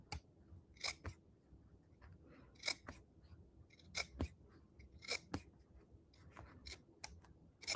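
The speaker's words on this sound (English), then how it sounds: "You just snip, snip," Scissors snipping the fabric edges of a rag quilt, a series of short crisp cuts in uneven bursts, some in quick pairs, close and clear over a quiet background.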